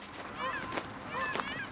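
Geese honk in two loud bursts, several birds calling together at close range while a dog chases them outdoors.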